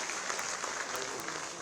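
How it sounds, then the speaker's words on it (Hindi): Applause from an audience at a government ceremony in Lucknow where house keys are handed over, a dense, steady burst of clapping lasting under two seconds. "जोरदार तालियां, हर स्त्री का सपना है अपना घर हो।"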